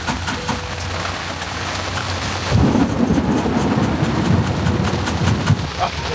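A massive thunderstorm in Jakarta pours heavy rain, a dense loud hiss with a deep rolling rumble of thunder swelling midway and continuing to the end.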